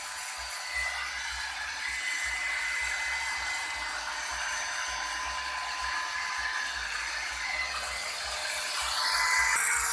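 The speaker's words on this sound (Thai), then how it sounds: "ได้ดอกสว่านแล้วเดี๋ยวเราจะ ไป เจาะกัน" An electric drill fitted with a bit runs steadily in a workshop where a stainless steel welder is kept, a continuous close whirring with slight rattling, the motor rising a little near the end, with no one talking.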